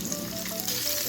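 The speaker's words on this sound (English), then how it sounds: "we're going to fry on both sides for about 10 minutes. I'm using a non-stick skillet" Salmon frying in a non-stick skillet, a dense close sizzle crackling steadily throughout, with no voices.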